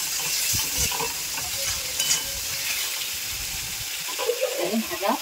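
Masala frying in a pan while being stirred for Bengali patal chingri, a continuous hissing sizzle with scraping spatula strokes, close by, a voice speaking briefly partway through.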